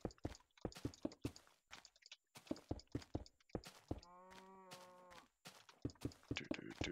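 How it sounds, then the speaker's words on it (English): A Minecraft cow moos once, a clear harmonic low call lasting about a second and a half, amid repeated game thunks and footstep-like clicks in the Beta 1.3 world. "Hello, cow. I heard you."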